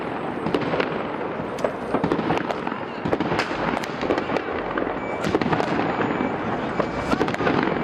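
Fireworks crackle and bang in rapid, irregular bursts in a street in the Netherlands, a dense barrage of pops and booms echoing outdoors with faint voices underneath.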